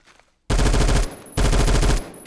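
C7 rifle firing in the video game Phantom Forces, two loud close full-auto bursts of rapid shots separated by a short pause, with no talk over them.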